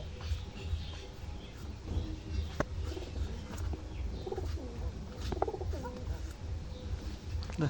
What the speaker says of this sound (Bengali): কবুতরগুলো কত সুন্দর ডাকতেছে